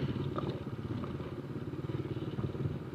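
A motorcycle with a tricycle sidecar on a solo ride through the countryside: a steady low engine drone with rattling clatter, close and continuous, with no talking.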